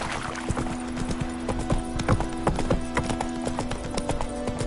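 Horse hooves clip-clop at a steady gallop in The Witcher 3, a rapid rhythmic run of close, clear hoofbeats over an ambient backdrop with no talking.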